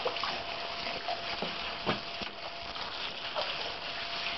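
Shower water runs steadily over a dog at home, a loud continuous hiss and spatter with occasional splashes and knocks.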